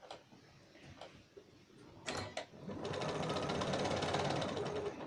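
A sewing machine stitches a churn dash quilt square, starting after a few scattered handling clicks and knocks, then running in a steady close whir for the last couple of seconds, fairly quiet overall.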